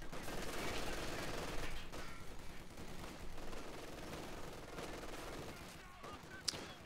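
Stuka dive bomber suppression fire in Company of Heroes 2, a dense and continuous roar of rapid gunfire and explosions that runs the whole time. It ends with a sharp crack.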